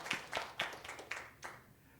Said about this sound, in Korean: 우리 잠깐 일어나시고 우리 박수로 한번 축하하십시다.